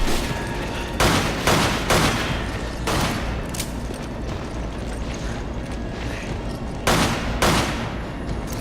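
Gunfire in the video game Resident Evil 5, heard as several loud bursts of shots around the first three seconds and again near seven seconds, over a steady low game rumble with no talk.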